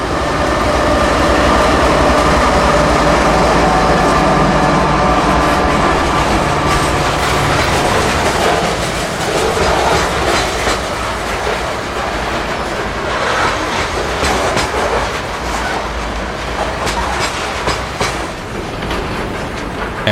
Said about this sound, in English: At mid-train, actually toward the bottom end, was a distributed power unit, another CSX Spirit locomotive.